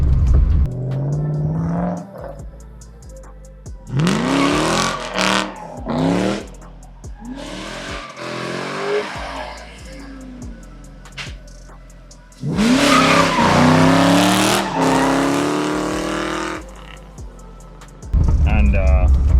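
A Mustang with an Aviator engine swap drifts, its engine revving hard in surges while the tires squeal and skid through repeated slides, loud and close with brief gaps between runs.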